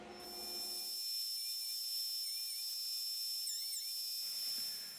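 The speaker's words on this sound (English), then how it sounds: "I just updated the cutter head in this planer to a helical style cutter head" A thickness planer fitted with a helical cutter head runs with a steady high-pitched whine and hiss as a board feeds through for about three seconds, then spins down.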